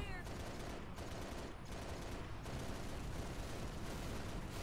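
Halo Reach combat roars with continuous heavy gunfire and explosive blasts, a dense, loud, unbroken barrage of rapid shots that fills the whole stretch with hardly a pause.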